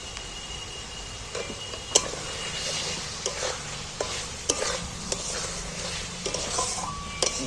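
Eggs going one by one into a pan of fried, oil-releasing spice paste for an egg curry, heard as a steady close sizzle of frying with sharp stirring clicks and taps scattered throughout.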